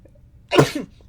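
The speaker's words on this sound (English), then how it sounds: "Hold up, I'm thinking about to sneeze." A single sudden sneeze from a person, sharp and close, over a quiet background and lasting under a second.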